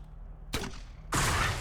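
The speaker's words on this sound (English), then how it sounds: "I'm going to blow the hedge with our grenade launcher" Grenade launcher firing in Xenonauts 2, a turn-based strategy game: a sharp launch blast followed a moment later by a louder, sustained explosive burst, both close and loud with no talk.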